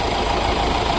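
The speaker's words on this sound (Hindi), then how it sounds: "ये है गाड़ी का साउंड, मतलब इंजन घूमा और गाड़ी स्टार्ट।" Honda City diesel car engine running just after starting, a steady close rumbling drone with no gaps, loud and alone.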